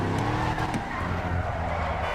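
A car in the video game GTA 5 slides at full throttle, its tires squealing steadily under a loud, continuous engine roar with little change across the short stretch.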